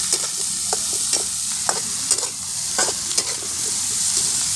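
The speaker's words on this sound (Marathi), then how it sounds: "परतून दे कांदा चांगला" Onion sautéed in a pan for a village-style kurdai vegetable dish, giving a steady close sizzle with repeated scraping stir strokes throughout, no voices.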